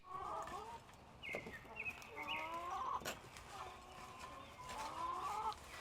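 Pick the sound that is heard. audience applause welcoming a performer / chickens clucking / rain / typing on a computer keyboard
chickens clucking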